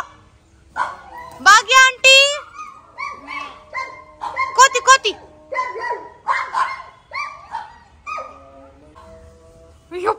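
A dog at a family home during a festival visit gives repeated high yips, barks and whimpers in short bursts, close and loud, with voices in between.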